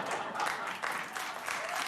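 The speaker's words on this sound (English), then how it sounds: "Crowd really liked what you said, Andrew." Steady crowd applause from a live audience at a political discussion show on democracy, dense and continuous clapping at moderate level filling the whole moment without pauses.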